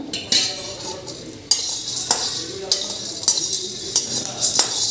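Black pepper roasting with a little oil in a pan, heard as a spoon clinking and scraping against the metal in several sharp strokes over a faint sizzle, close up, no voices.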